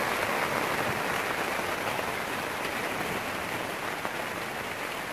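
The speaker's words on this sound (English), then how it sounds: "It's raining now." Steady, dense rain falling, a continuous hiss of drops on surfaces with no breaks and no voices.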